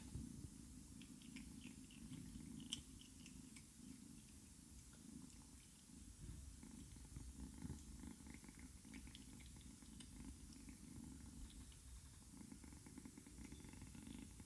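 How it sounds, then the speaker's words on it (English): Soft, steady purring from a cat close by, a continuous low rumble with faint rustling, no talking. "She's purring so loudly"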